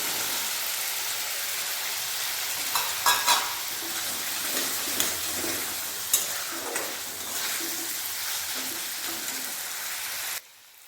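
Potatoes hit hot oil and fried spices for a chickpea and potato curry, giving a steady close sizzle with scattered louder pops and stirring scrapes, alone with no talk, ending abruptly.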